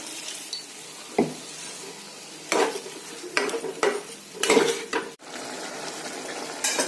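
Water splashes into a pan of frying goat liver curry (mete charchori), setting off loud bursts of sizzling and hissing in uneven surges alongside clattering stirring against the pan, close and with no talking.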